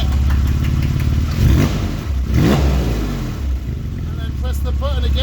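Porsche 911 997 blipped with its Valvetronic exhaust valves open, loud nearby revs rising sharply and falling back, a couple of throttle stabs over a steady engine note.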